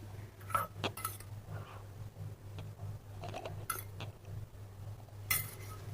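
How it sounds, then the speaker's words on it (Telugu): Eggplant pieces being mixed with oil in a bowl for a tawa fry give off scattered clinks and scrapes of a utensil against the bowl, moderately close, over a steady low hum. "ఆయిల్ వేసి మళ్ళీ ఇలా కలుపుకోవాలి"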